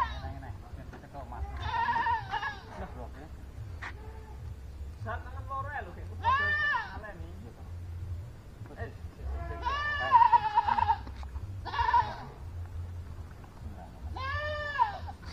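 Several goats bleat in repeated bursts at a village wedding celebration in rural Indonesia, their calls rising clearly over a steady low hum, with people talking in the background.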